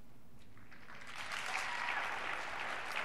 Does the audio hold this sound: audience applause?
yes